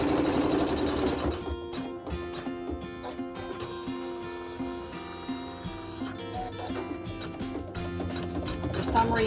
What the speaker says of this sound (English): it's going to sew that down with 2 lines of stitching